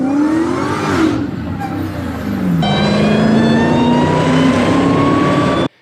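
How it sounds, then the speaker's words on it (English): Supercharged Dodge Charger or Challenger Hellcat driving by, loud and close, with a rising supercharger whine and engine roar that shifts pitch as it accelerates past and then cuts off. "If you've ever heard a Dodge Charger or Challenger Hellcat go by"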